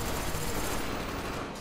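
MP5K submachine gun fire in Call of Duty Black Ops on the Nuketown map, a dense, loud, continuous burst of rapid shots with no talking.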